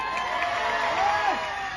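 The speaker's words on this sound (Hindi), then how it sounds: "एक बार जोरदार तालियां हो जाए।" Loud applause and cheering from an audience at a hospital inauguration event in Amroha with a Bollywood actor, a dense steady crowd roar with whoops that fills the whole moment.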